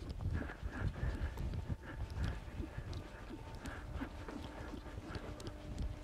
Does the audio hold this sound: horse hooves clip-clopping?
yes